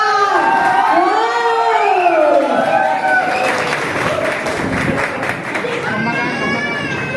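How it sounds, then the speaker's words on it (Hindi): Loud audience applause and cheering at a Balrampur seminar, dense clapping mixed with shouts and voices from the crowd that runs steadily through the whole stretch, with a person speaking over it at the start. "एक बार जोरदार तालियां।"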